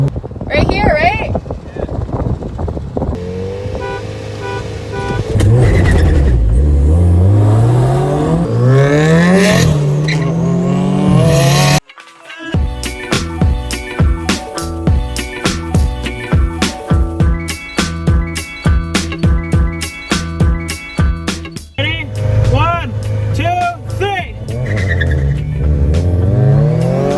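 Tuned car revving hard with exhaust pops and bangs, loud and close, rising and falling revs and sharp crackling bursts, with voices talking over it.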